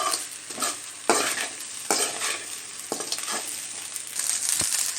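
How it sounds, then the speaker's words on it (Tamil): Egg rice is stirred in a hot pan, producing a steady close sizzle broken by regular scraping strokes of a spoon about once a second. "அதனால் ஒரு 5 நிமிஷம் கிண்டி விடுறேன்"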